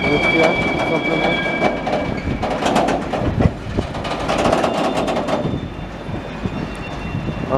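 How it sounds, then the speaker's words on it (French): A freight train formed by gravity in a rail marshalling yard: rolling wagons rumble steadily with clanks and wheel noise, and a thin squeal runs high above, while someone talks over it. "vous voyez un petit peu la formation d'un train de marchandises à la gravité"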